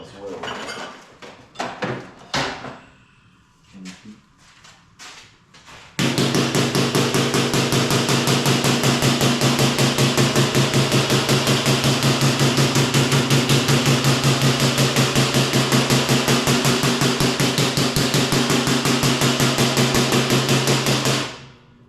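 Steel struck by a hammer while building a bomber seat: a few scattered knocks, then a dense, rapid, loud run of metallic blows lasting about fifteen seconds, close and alone.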